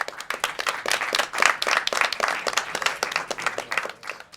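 An audience in a school auditorium claps steadily throughout to welcome a guest onto the stage, a dense and fairly loud wash of hands that swells slightly midway.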